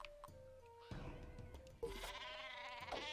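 Sheep bleats in the Worms Battlegrounds video game, several wavering cries starting partway through and growing louder over game music and effects.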